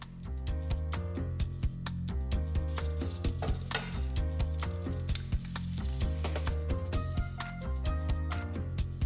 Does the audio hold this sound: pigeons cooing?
no